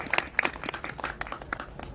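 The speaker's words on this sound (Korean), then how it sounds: "동의하시면 박수 한번 주시기 바랍니다" A gathering responds with faint, scattered clapping from an audience, irregular and somewhat distant, short and loosely rhythmic.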